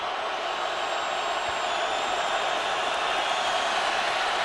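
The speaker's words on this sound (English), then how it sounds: "Crowd on its feet in Fresno." Steady roar of a football stadium crowd on its feet at Fresno State on a tense fourth down in the 2013 Mountain West championship against Utah State, loud and continuous with no clear breaks.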